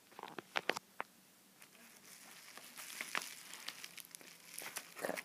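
Scattered crisp scissor snips and crinkles as a Baofeng lapel mic's packaging is cut open and handled, quiet and close, with short sharp clicks early on and a rustling bed throughout.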